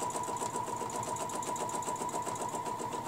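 A sewing machine stitches a ruler quilting pattern, its steady rapid needle hum running continuously and close by with no voices.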